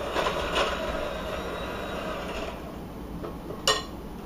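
An electric mixer runs steadily on medium-high speed, beating whoopie pie batter with a continuous, fairly loud whirring drone that barely changes, and one brief sharper clatter near the end.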